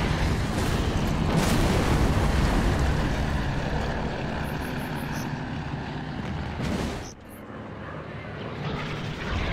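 Transport engine running in the Hidden Stroke 2 video game, a loud, steady roaring drone that dips briefly near the end, with faint high beeps over it.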